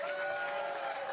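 Church congregation in a worship service clapping and cheering, a dense steady wash of applause with sustained tones underneath, faint and brief.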